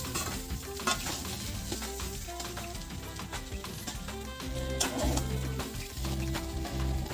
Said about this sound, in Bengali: এদিকে কাঁকরোলটাও ভালো করে ভাজা হয়ে গেছে